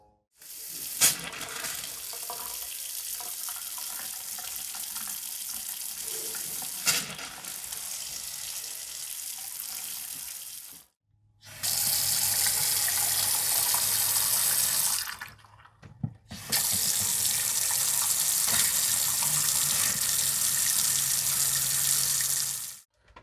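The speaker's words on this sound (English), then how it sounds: "we'll turn on some faucets, works more of this air out" Faucets run after servicing a Suburban IW60RL on-demand water heater, sputtering and hissing as trapped air is pushed out, with loud steady streams broken by brief shutoffs.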